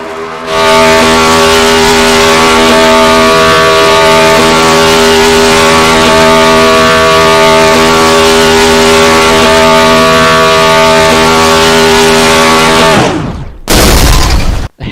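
A stock car in a racing video game does a burnout against the wall, its engine roaring loud and steady with harmonic whine for about thirteen seconds before cutting off abruptly, followed by a brief harsh burst.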